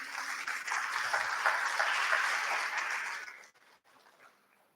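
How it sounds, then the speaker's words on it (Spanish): An audience at an international forum applauds to welcome speaker Katrina, a full, steady round of clapping that stays strong for over three seconds, then cuts off abruptly into near silence with a few faint sounds. "Les pido un fuerte aplauso"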